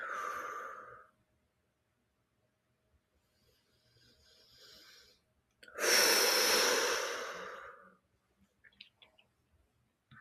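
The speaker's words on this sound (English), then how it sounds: "just begin to breathe in and out for me." Slow, audible human breathing in a quiet room: a breath out at the start, a faint breath in, then a long, loud exhale lasting about two seconds, followed by a few soft clicks and small sounds.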